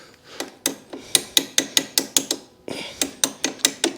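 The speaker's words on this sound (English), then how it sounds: "Next thing we're going to do is just drive this pin" A pin is hammered through the keeper on an adventure motorcycle build: a steady run of sharp metallic taps, about fourteen close, ringing strikes with a brief pause midway.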